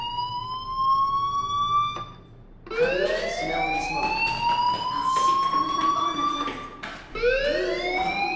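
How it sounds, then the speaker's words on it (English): A shrill electronic fire alarm in a video game wails in repeated rising sweeps, loud and insistent, with a brief dip between cycles; no one speaks. "do you hear that fire alarm?"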